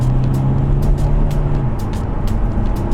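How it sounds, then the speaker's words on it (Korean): A Hyundai Kona diesel accelerates hard from 80 to 120 km/h, giving a steady, loud engine drone with road and wind noise that holds continuously throughout, with no talking. "제가 한번 80km에서 120까지의 추월 가속 성능을 조금 보여드립니다"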